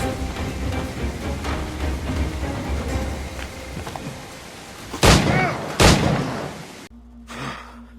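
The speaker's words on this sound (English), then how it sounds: "How about a little gunplay?" Two sharp gunshot bursts from Assassin's Creed 4: Black Flag ring out close together over a dense, loud game soundscape, then give way to a quieter stretch.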